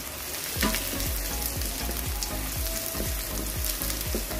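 Garlic sizzles and fries in a hot pan for a beef broccoli with carrots dish, a close, crackling sizzle with a regular rhythm of stirring scrapes repeating about twice a second.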